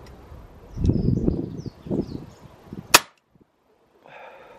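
Weihrauch HW45 spring piston air pistol fired once on low power: a sharp, loud single crack, preceded by handling rustle and followed by near silence.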